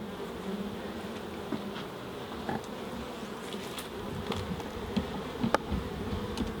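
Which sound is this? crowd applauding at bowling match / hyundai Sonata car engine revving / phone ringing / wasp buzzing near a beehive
wasp buzzing near a beehive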